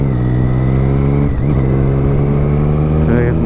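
Triumph Street Triple 675 inline-triple motorcycle engine with a new aftermarket exhaust hums continuously under riding, a dense steady tone with a quick dip and recovery partway through, close and prominent throughout.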